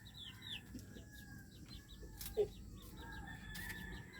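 Soft, scattered clucks and chirping calls from chickens in a quiet outdoor setting, fairly faint, with a brief louder squawk.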